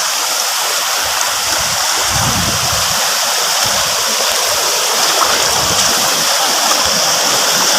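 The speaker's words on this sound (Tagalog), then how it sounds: "ang view po ng ating Pamoyan Falls of the day" Pamoyan Falls in Palawan roars as a steady, loud rush of falling water, continuous and close throughout, with faint low rumbles underneath.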